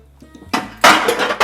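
A metal pan clatters and clanks a few times while birria tacos are served at home, with a sharp scrape followed by a heavier knock, close and fairly loud.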